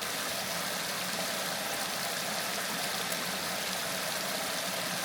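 Ludlowville Falls pours from the rocks, a dense, steady rushing roar of falling water that fills the air without pause and with no voices.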